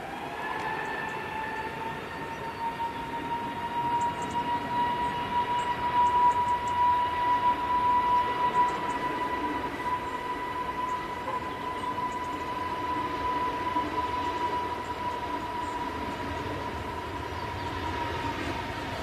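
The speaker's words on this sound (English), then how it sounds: "Another Neo departing with EasyJet." An EasyJet Airbus A320neo departs Manchester Airport with a steady, fairly loud roar and a sustained whining tone. The sound holds evenly throughout with no talking.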